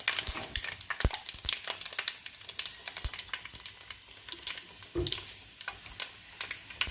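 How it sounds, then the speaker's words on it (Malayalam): Fenugreek seeds fry in sesame oil for a homemade lime pickle, a continuous crackling sizzle punctuated by sharp pops and spatters, close and fairly loud, with no talking. "കുറച്ചുകൂടെ നല്ലെണ്ണ ഒഴിച്ചു കൊടുക്കാം"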